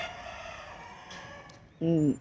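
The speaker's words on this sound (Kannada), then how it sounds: "ಕೋಳಿ, ಕೂಗ್ತು." A rooster crows once, loud and close, in a short, bright call near the end, rising over a quiet room hum at home.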